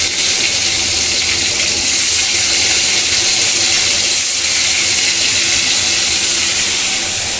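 A pressure cooker cooking rice on a home kitchen stove releases a loud, steady hiss of escaping steam that holds constant throughout, with no talking.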